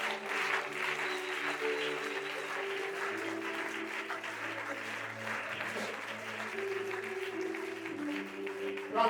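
Church congregation applauding steadily throughout, a dense continuous wash of clapping with sustained organ or keyboard tones underneath and some voices mixed in.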